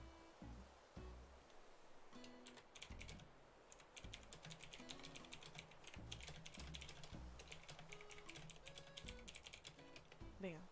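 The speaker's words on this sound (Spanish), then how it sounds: "mi teclado hace más ruido" A computer keyboard is typed on in rapid, steady clattering bursts with brief pauses, close and fairly quiet, while a person's voice is faintly heard in the background.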